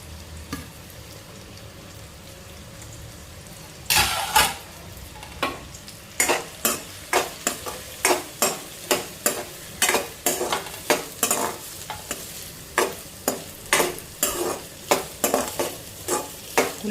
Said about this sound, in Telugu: ఉల్లిపాయ దూరగా వేగితే బాగుంటుంది, పచ్చి పచ్చిగా ఉండకూడదు ఉల్లిపాయ